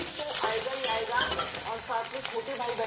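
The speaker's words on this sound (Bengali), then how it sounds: "এখানে একটু পনির ভেজে নিচ্ছি।" Paneer fries in a pan with a close, continuous sizzle and crackle, while a voice carries faintly over the frying.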